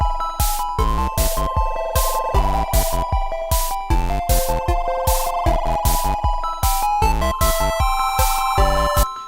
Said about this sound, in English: I have this here ARP that fades in and out